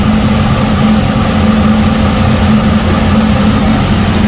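An original straight-six truck engine with a three-on-the-column shifter idles nearby, a loud, steady, even hum with a smooth, unbroken low throb and no voices.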